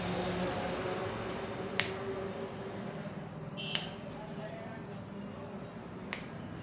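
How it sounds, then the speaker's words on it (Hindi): Three crisp finger snaps at a wide, uneven spacing ring out close and sharp over a steady low room hum, each one a brief dry crack before the quiet returns. "जैसे हम चुटकी बजाएंगे तो बैकग्राउंड चेंज हो जाएगा"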